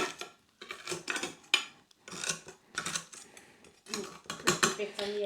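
A spoon digging and scraping into a dish of cheesy spaetzle with caramelised onions, soft metallic scrapes and clinks against the dish, close up and interleaved with talking.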